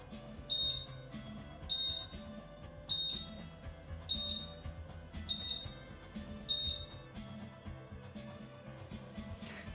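A lab freezer's door-open alarm gives six evenly spaced high beeps about once every 1.2 seconds, clear over a steady low hum of equipment and room noise.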